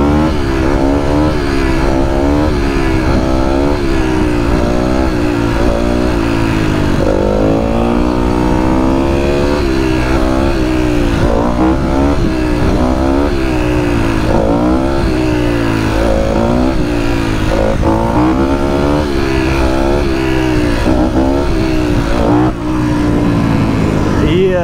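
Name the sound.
motorcycle revving during wheelies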